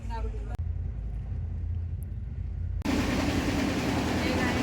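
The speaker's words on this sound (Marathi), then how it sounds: "सो फायनली ट्रेन चालू झालेली आहे" A passenger train rolls along at night on the way toward Rishikesh, its steady low rumble filling the carriage before a sudden, louder rushing roar takes over, with a faint murmur of voices underneath.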